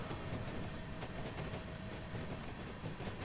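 A four-axle diesel locomotive rumbles steadily along the Columbia Valley Pacific Railway in Train Simulator Classic, with a dense, continuous engine drone and faint track clatter throughout.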